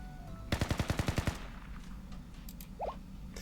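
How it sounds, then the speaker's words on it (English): Video game automatic gunfire in Blue Archive: a rapid burst of about eight sharp shots in a quick even rhythm, fairly faint, followed by low background game sounds. "Was that gunfire?"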